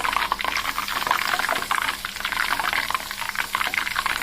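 A hair-oil mixture with aloe vera, egg and fenugreek bubbling and crackling in a pan, a dense, continuous fizz heard close up with no talking.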